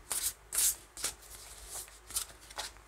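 Tarot cards being shuffled by hand, heard as a handful of quick, crisp riffling bursts separated by short pauses, close and fairly soft with no talking.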